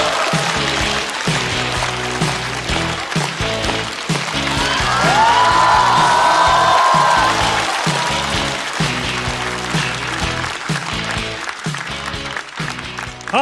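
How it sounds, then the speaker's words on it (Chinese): A stand-up comedy studio audience applauds and cheers as a performer is welcomed, the clapping running under loud, rhythmic entrance music with a beat. "掌声有请"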